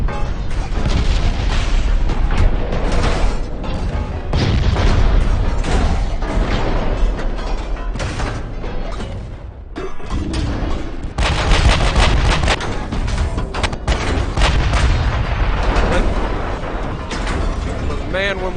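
Battleship main guns in a naval combat game fire salvo after salvo, loud booming blasts and rumbling under a continuous wash of battle noise and mechanical clatter, with speech running over the top throughout.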